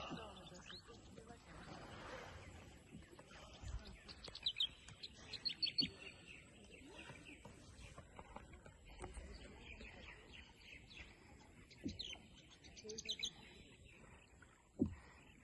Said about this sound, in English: Yeah, the birds.